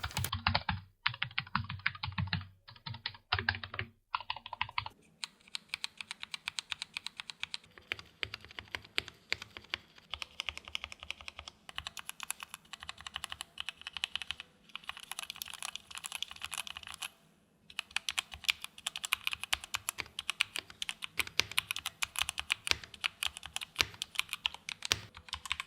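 Keys clatter steadily on a modded Zebronics Nitro Pro mechanical keyboard, a budget custom build, in dense close-up bursts of clicks with a brief pause partway through and no voices.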